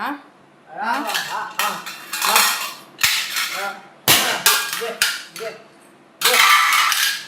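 A drunk husband bangs and hurls steel pots and dishes around a home, a string of loud, sharp metallic clatters and crashes in irregular bursts, with voices talking between the impacts.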